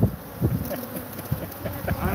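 Bees buzz steadily around a beekeeper, a continuous insect drone with wind buffeting the microphone and soft thumps of handling mixed in.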